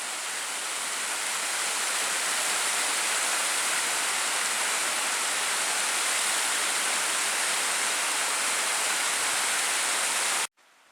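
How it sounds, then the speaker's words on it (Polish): Waterfall on the Bystrzyca river at Stara Bystrzyca in the Bystrzyckie Mountains in spring, a steady, loud broadband roar of falling water close by that continues unbroken and then cuts off abruptly near the end. "Wodospad na rzece Bystrzycy, Stara Bystrzyca."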